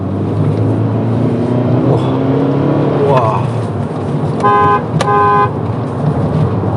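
A 2007 Honda CR-V with a six-speed manual gearbox drives along an empty road, its engine droning steadily and rising through a gear change, with two short horn-like toots near the end and a voice speaking over the engine.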